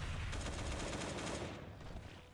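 AK rifles fire continuously in the video game Last Day on Earth, a dense rapid rattle of overlapping shots during a bunker assault, fairly quiet in the mix and easing slightly toward the end.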